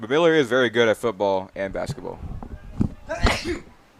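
Someone talks steadily, then a single short, forceful sneeze bursts out near the end, close to the microphone.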